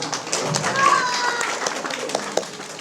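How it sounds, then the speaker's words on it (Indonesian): Children clap in a short, scattered burst of applause, close by, mixed with lively chatter and voices of kids and an adult talking over them. "Tepuk tangan untuk Bang Bintang."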